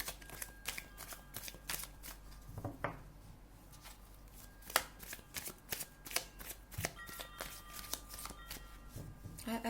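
Tarot cards shuffled and drawn for a reading, with a close, continuous stream of riffling and sharp card snaps, quiet and intimate, while a voice talks faintly underneath.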